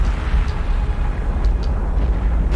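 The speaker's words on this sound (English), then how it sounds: "That was a magazine explosion." A ship's magazine detonates in the naval combat game War on the Sea, a loud, sustained low rumbling boom that fills the clip with a steady roar and a few brief crackling bursts, with no voices.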